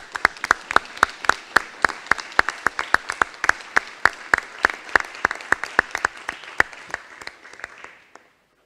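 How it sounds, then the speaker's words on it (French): Members of a newly installed municipal council clap together in a small room, the sharp individual claps distinct and rhythmic before trailing off into silence. "on s'applaudit tous"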